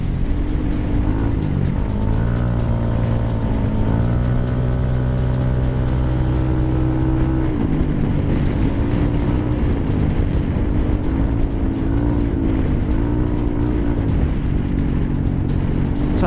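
A Yamaha NMAX scooter rides on throttle control without braking, its close, loud engine drone rising and falling in pitch as the throttle opens and closes, with wind noise around it.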